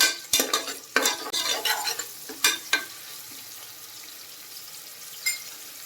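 Finely chopped small onions and spices fry in a pan for a Tamil goat head curry, with a spoon scraping and stirring in bursts over a steady sizzle that quiets toward the end.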